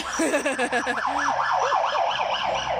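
A wailing emergency siren sweeps up and down, joined by a second rapid yelping siren, fairly loud as vehicles pass nearby, over road noise.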